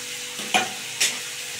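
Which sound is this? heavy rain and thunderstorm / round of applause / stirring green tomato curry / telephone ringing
stirring green tomato curry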